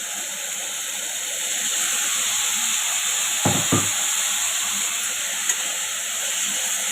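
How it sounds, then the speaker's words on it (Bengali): Hot water poured into a cooking pan of food, producing a steady hiss of steam and soft sizzle throughout, with a couple of brief knocks partway through. "একটু গরম জল দিয়ে দিই।"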